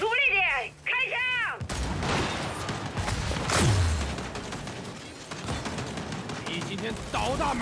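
Gunfire and mechanical combat noise from the video game Gears 5, dense bursts of shots and clanking with a descending whoosh mid-way and chirpy electronic tones at the start, loud and continuous throughout.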